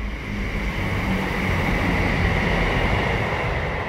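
A train passing nearby, a steady loud rumbling roar that holds unbroken throughout with no voices over it.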